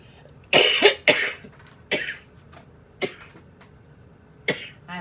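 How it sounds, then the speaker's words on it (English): A person coughs in several sharp bursts, a close pair at the start followed by single coughs spaced about a second apart, loud and near in a quiet room with no talking. "I apologize about my coughing."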